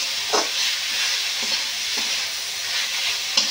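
Grated coconut being dry-roasted and stirred in a pan, a steady dry hiss with soft periodic scrapes of the spoon against the pan, close and continuous with no talking.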